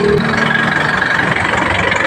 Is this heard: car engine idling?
yes